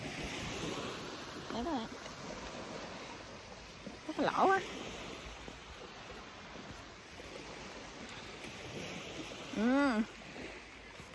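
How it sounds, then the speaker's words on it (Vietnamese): Sea waves wash continuously on an island beach, a broad steady surf mixed with gusts of wind buffeting the microphone, while voices talk briefly in between. "À, biển nè"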